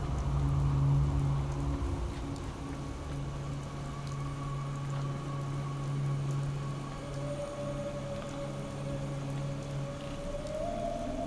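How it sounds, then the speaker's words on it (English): Steady rainfall in the video game Fallout 4 patters continuously, with low droning hums and a rising tonal note in the background. "What a rainy day, too."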